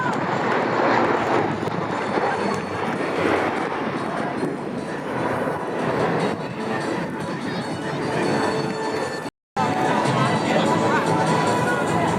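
C-130 Hercules flying at the Thunder Over New Hampshire air show, a loud continuous engine roar with broadband rumble throughout, crowd babble mixed in, and a brief cut near the end.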